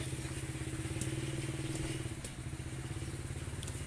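A wood-cutting machine engine runs at a steady fast idle, a loud, close, rapid chugging putter with constant mechanical rattle and no talk.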